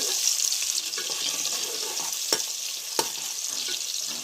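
Small onions sizzle and fry in a pan for mutton kulambu, a steady, close hiss with a few sharp crackles and stirring scrapes, with no voices over it.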